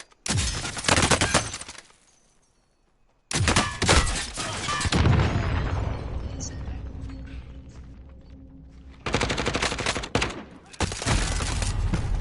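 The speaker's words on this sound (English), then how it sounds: "He's shooting at you." Bursts of rapid gunfire and heavy impacts from a Call of Duty Warzone firefight ring out close and loud, broken by a short quiet gap and a trailing echo, with a voice faintly under the shots.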